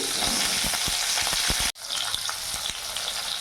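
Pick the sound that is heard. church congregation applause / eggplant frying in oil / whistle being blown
eggplant frying in oil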